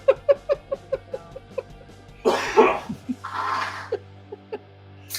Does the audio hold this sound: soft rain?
no